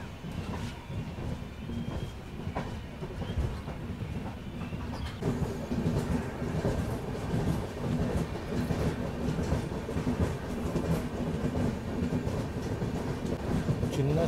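The Golconda Express passenger train rolls along the rails near Kondapalli as it slows toward the station, giving a steady close rumble with rhythmic clickety-clack from the wheels and no talk.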